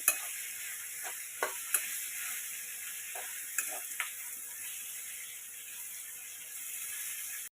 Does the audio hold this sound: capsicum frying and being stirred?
yes